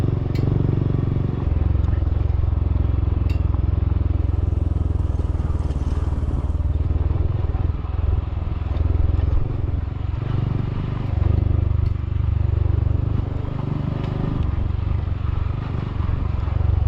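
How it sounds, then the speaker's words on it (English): Honda CT 142 motorcycle fitted with a big bore kit, ridden with a continuous loud low engine rumble and wind noise that swells and dips over the ride. "I can feel the lack of suspension in the front forks a whole lot better with Daniel's bike"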